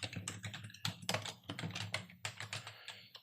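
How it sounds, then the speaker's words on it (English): Computer keyboard typing while entering a name into a Word 2019 document, a fast irregular burst of crisp key clicks with a few louder strokes, close and alone with no talking. "I'm going to type in my name"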